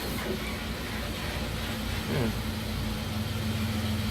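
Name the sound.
bus engine idling, from a video game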